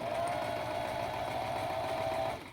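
A sewing machine stitches elastic onto a fabric mask in one steady, fast whirring run that stops near the end, close and fairly quiet.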